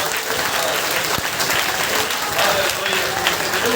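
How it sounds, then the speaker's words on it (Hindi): A church congregation clapping together in a steady, continuous wash of applause, fairly loud and close, with voices faintly mixed in beneath. "ताली बजा के"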